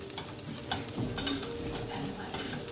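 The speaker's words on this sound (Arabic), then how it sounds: "فلفل اسود، واديها تقليبه كمان" A potato dish seasoned with black pepper is stirred in a hot pan, with a continuous close sizzle and utensil scraping and occasional light clinks against the pan.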